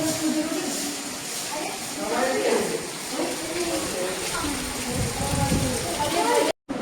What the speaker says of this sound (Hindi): बारिश से जो रुक ही नहीं रहा है